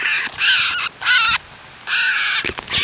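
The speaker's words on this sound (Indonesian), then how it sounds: "Burung ini berusaha untuk melepas diri" A bird caught in a snare trap gives loud, harsh caws close by, three long strained calls separated by short gaps, with faint rustling of its struggle.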